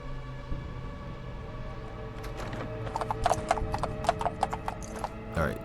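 A horse's hooves clip-clop in Fallout London, moderately near and growing more distinct, with a short whinny and faint mechanical clicks amid the game's ambient backdrop.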